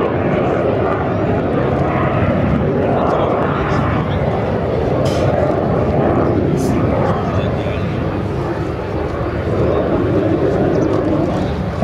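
A BAC Strikemaster jet trainer flies at the Barton airshow, its steady broad engine roar continuous and fairly loud throughout, heard outdoors without a break.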